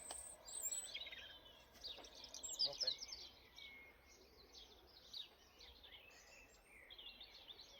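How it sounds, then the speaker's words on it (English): Birds chirp and sing faintly over an allotment garden, with scattered short calls above a quiet outdoor hush and no voices at this moment. "Lovely bird song."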